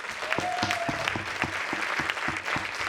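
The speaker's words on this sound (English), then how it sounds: "Please can we have one final round of applause for the entire cast and crew." Audience applause after a high school winter play of Agatha Christie's And Then There Were None, a steady roomful of clapping with a brief tonal whine partway through, continuous for the whole stretch without voices.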